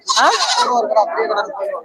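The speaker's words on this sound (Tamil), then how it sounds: "இந்த கிடா ஆட்டுக்கேத்த கிடா" A male goat bleats loudly and close at the Ettayapuram goat market, one long wavering cry trailing off, with market voices underneath.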